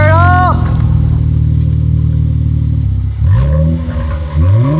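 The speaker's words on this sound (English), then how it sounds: "Don't you love the first exhaust startup though?" A 2023 Nissan Z's aftermarket APEXi exhaust rumbles loudly at close range, idling then blipping into a few rising revs, with a person talking briefly over it.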